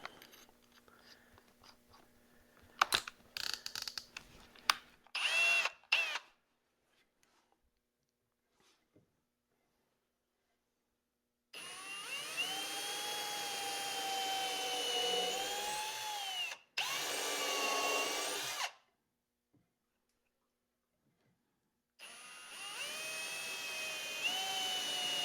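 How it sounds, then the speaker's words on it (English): A power drill with a twist bit bores holes into a footstool top, three separate whining runs of several seconds each separated by quiet gaps, preceded by scattered handling clicks and knocks. "Now I'm just going to drill the holes like you saw me do before."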